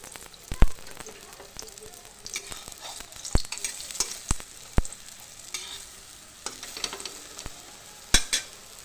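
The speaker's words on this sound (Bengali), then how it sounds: "এটাকে আমি উল্টে দিয়েছি আর একটু তেল এবার চারিদিকে একটু ছড়িয়ে দিব তাহলে ভাজাটা ভালো হবে" Oil sizzles softly in a pan as pointed gourd fries, while a utensil scrapes and taps at irregular intervals, producing sharp clicks over a steady frying hiss.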